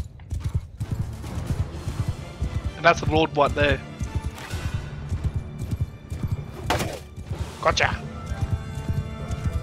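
Rapid hoofbeats of many galloping cavalry horses drum steadily throughout, with a couple of whinnies, while someone talks over the commotion, in a video game set in Calradia.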